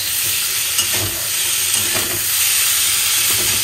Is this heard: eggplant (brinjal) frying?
yes